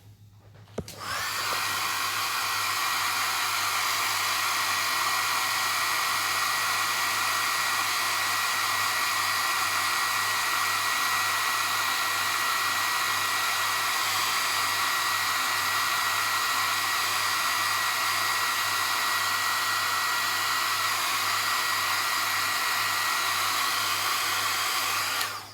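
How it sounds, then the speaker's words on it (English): A hair dryer blasts steadily on a 1/12 Bandai General Grievous model kit, starting abruptly and holding a loud, even roar with a low hum for nearly the whole stretch before cutting off. "I'm just going to blast this with the hairdryer a bit more"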